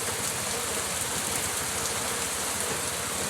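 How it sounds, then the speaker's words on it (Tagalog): Heavy rain pours down in a dense, constant hiss, loud and close, with no voices or breaks. "lakas na naman ang ulan"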